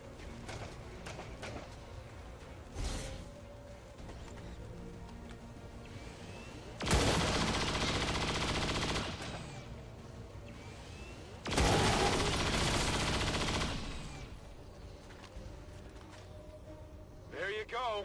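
Chain shot gunfire in the video game XCOM 2, two long loud bursts of rapid shots several seconds apart, with game ambience and a voice talking in between.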